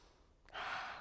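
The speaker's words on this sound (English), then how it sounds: "Letting it go like a lion's breath." A forceful lion's-breath exhale comes during a beginner vinyasa yoga flow. A short breathy rush starts about halfway through and rises into a loud, sustained hiss close to the mic.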